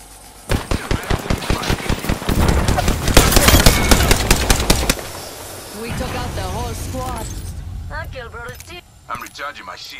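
Rapid automatic gunfire from Apex Legends, a burst of loud close shots in the first few seconds and then dense shooting, followed by game voice lines and chirpy electronic effects.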